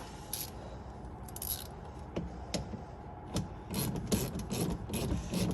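Ratcheting on 10mm bolts holding the plastic oil filter flap of a 2014 Infiniti Q50s undertray: soft clicking bursts and faint rubbing scattered across the stretch, close and fairly quiet, with no talking.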